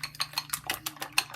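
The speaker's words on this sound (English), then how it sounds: "you can use a chopstick to mix the egg" A chopstick rapidly beats egg, salt, black pepper and chopped green onion in a bowl, giving about eight quick, evenly spaced clinks and taps against the side, close and clear with no talk.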